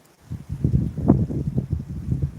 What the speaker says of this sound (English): now it's starting to get windy